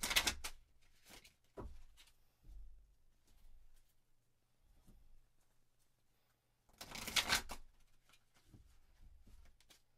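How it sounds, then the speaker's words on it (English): Tarot cards are shuffled by hand in a few short, soft riffles and taps, with a longer burst of shuffling near the end, all quiet and close. "I'm going to go ahead and shuffle a few more times"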